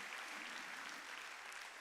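A church congregation at a Wednesday service claps together in a brief, even burst of applause, faint and distant.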